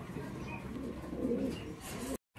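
Lakka fantail pigeons coo low and throaty, a run of soft rolling coos near the microphone, with a voice speaking faintly over them before the sound cuts off abruptly at the end.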